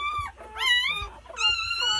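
Newborn pitbull puppies whimper and squeal close by in a few high, wavering cries with short breaks between them, and no voices over them.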